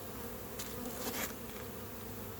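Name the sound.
bees buzzing around a hive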